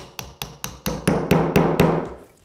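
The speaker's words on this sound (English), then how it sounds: "Tap it through with your hammer." A hammer taps a wooden dowel through a drilled hole in timber with eight sharp, evenly spaced knocks, each a little louder than the one before.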